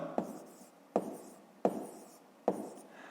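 A pen writes numbers on paper during a fifth-grade arithmetic exercise, making four crisp, evenly spaced tapping strokes, each followed by a short scratchy trail, close and quiet with no talking.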